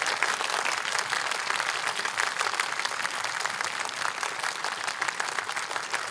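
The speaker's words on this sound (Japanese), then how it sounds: "もう一度大きな拍手をお願いいたします" An audience at a board game design stage talk with guest Wallace gives sustained applause, an even, dense patter of many hands clapping throughout, moderately loud with no voices on top.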